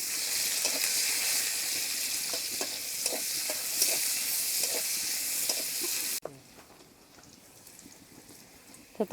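Chopped onions frying with kuche fish in a pan give a loud, steady sizzle with repeated scraping stirs, then the sizzle abruptly drops to a quiet background with a few faint clinks near the end.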